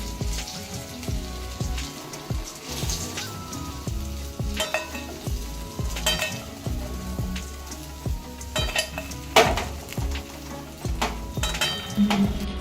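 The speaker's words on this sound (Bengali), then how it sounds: "কোপ্তার বড়াটা একদম ভাজা হয়ে গেছে এরকম লাল লাল করে কিন্তু দু সাইডই ভেজে নিতে হবে" Green plantain kofta balls sizzle steadily in hot oil in a home kitchen, with a dense crackle broken by occasional louder pops and stirring clatters, close and with no talking.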